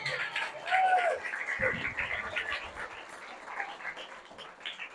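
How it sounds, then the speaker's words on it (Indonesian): An audience at a motivational talk for students claps and cheers, a steady broad patter with voices and a whistle-like call over it. "tepuk tangan dulu dong untuk semua"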